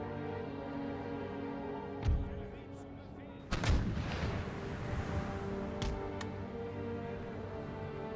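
Cannon fire from the artillery in Empire: Total War, several heavy booms spread across the clip, one especially large blast trailing into a rumbling decay over a steady battlefield hum.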